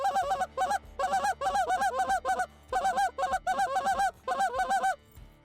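A handheld goose call blows rapid stacked clucks and honks in quick bursts, one after another, imitating a whole flock. The calls are close, loud and rhythmic, with short pauses between the groups.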